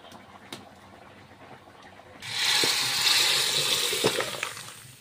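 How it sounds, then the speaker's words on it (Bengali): Fish and potato curry bubbling in a pot: a quiet start with a few faint clicks, then a steady hissing, bubbling simmer rises and holds for the remaining seconds, close by with no talk. "তরকারিটা আমার ফুটছে"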